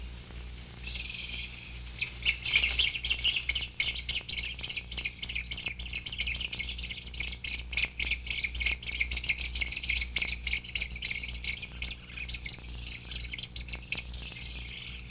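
Everglades wading birds with pale pink young call steadily from a nesting colony, a dense chorus of chirps and squawks that carries on alone from start to finish over a low hum.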